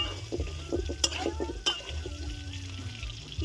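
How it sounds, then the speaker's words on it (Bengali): Potatoes fry in oil in a pan in a village-style kitchen, a soft sizzle under a few sharp clinks of a utensil against the pan, with faint background voices. "এবার আমি আলুগুলো ভেজে নেবো"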